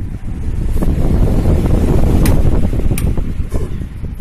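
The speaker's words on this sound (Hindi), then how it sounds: "अब मैं इसको ऑन कर देता हूँ कि देखिए मेरा फैन ये चलने लगा" An air cooler fan runs steadily after being switched on, a loud continuous whooshing hum of moving air with a slight rumble, close to the microphone and with no talking.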